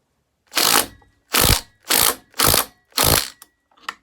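An impact driver tightens a bolt on a points-ignition chainsaw in five short, even bursts of rapid mechanical rattling, each under half a second and close by, followed by a faint click.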